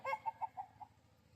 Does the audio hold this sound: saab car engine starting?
no